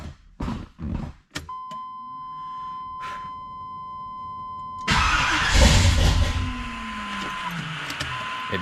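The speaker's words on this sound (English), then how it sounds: "I'm going to pump the gas a couple times and start cranking and see what happens." A cold car engine cranks in several short bursts of starter whine, stalls with gaps between, then catches at the end and runs loud and rough, close by, alone without talk.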